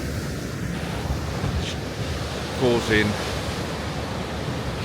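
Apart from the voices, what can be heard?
ocean waves breaking against a rock ledge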